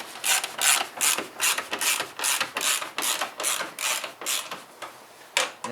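A ratchet tightens a bolt on a Vauxhall Corsa D bumper, giving about a dozen close, evenly spaced rasping clicks of the pawl in a steady back-and-forth rhythm, with no talk.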